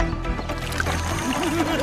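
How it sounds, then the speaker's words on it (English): Melted crayon wax is slowly poured into water for a craft, a soft gurgling trickle heard briefly under music, fairly close. "Slowly pour it into the water."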